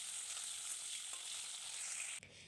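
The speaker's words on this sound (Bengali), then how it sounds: "এবার আমি সমস্ত রকম সবজিগুলো ভেজে নেব।" Assorted vegetables fry in hot oil in a pan, a bright, steady sizzle close by that stops abruptly near the end, with no talking.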